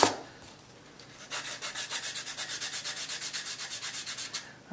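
Power sander shaping the wooden body of an Epiphone EB-0 bass, a steady rhythmic rasping grind of repeated strokes close up, starting after a quiet second with no talk.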